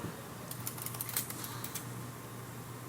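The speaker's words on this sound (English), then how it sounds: "listen to an old Model M keyboard rattle away" Faint, rapid clicking of an old IBM Model M mechanical keyboard being typed on, an uneven rattle of keys over a steady low hum.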